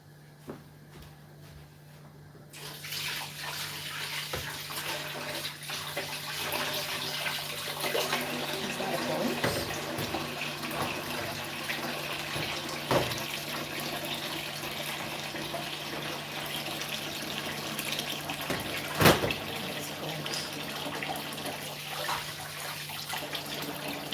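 Kitchen tap water runs steadily while a blender is washed up, a close, continuous splashing rush that starts a couple of seconds in, with occasional clunks of the jug against the sink.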